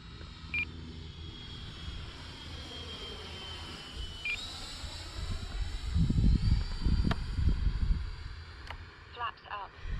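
An X-Fly Sirius 80mm EDF RC jet makes a slow pass with landing flaps down, its thin turbine whine shifting pitch while a rumbling roar swells midway and fades, with scattered beeps and a distant voice.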